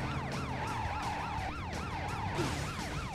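A siren-like car signal wails loudly in a repeating up-and-down sweep, several warbling cycles close by, with a brief low noise underneath near the end and no talking.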